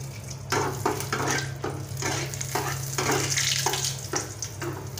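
Onion frying in a pan on a stove gives a steady sizzle, broken by regular scraping stirs of a spoon, with a constant low hum underneath.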